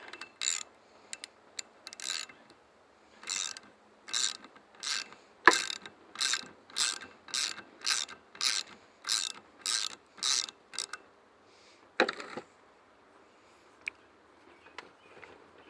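Ratcheting wrench spinning a nut onto a cylinder head stud, one ratchet burst after another in an even rhythm, each burst clicking crisply, then a few scattered clicks and a sharp knock toward the end.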